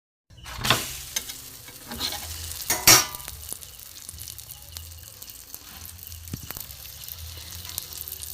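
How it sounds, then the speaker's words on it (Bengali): Egg paratha frying in light oil on a tawa gives a soft, steady sizzle, with a few louder scrapes and clatters near the start and a quieter sizzle continuing underneath. "লাল লাল করে একটু ভাজবো হালকা তেলে"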